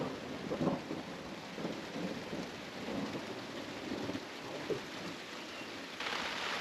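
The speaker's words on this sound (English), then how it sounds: "We've got rain, thunder." Steady rain hisses throughout while low thunder rumbles roll in the distance from a storm over an off-grid cabin, with no voices.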